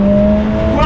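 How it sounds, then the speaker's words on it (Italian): Lotus Emira four-cylinder engine, a loud, close, steady high-revving drone with a strong sustained tone that starts to climb right at the end of a brief burst. "Motore rabbiosissimo, ma lo sapevamo, questo è un gran motore."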